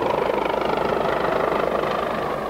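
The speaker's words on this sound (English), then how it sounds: "The roar of an approaching helicopter signals the beginning of another busy night at Cooper Hospital in Camden." An approaching helicopter roars steadily and loudly at night near Cooper Hospital in Camden, a dense rotor thrum with pulsing beats filling the scene without any voices.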